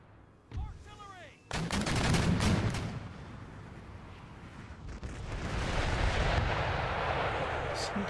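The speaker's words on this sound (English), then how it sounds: "Artillery!" Booming artillery fire in the Empire Total War strategy game during a city siege, with a heavy volley of cannon blasts followed by a rumbling roar of distant fire and battle noise.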